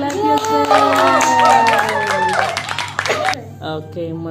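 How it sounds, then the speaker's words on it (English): Children clap in a kindergarten classroom during a five-senses activity, a short burst of applause mixed with lively chatter and excited voices. "Clap yourself!"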